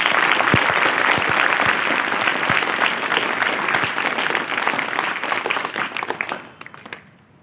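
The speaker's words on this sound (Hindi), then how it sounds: "ताली बजाओ एक बार जोर" Students in a school crowd clap hard during a Y20 program at GSS School in Ambala Cantt, a dense, loud roar of applause that runs about six seconds, then tapers off.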